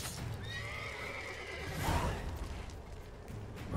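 A horse whinnies with a rising, quavering neigh over a busy soundscape in the video game The Witcher 3: Wild Hunt, with faint hoofbeats and rustling in the background.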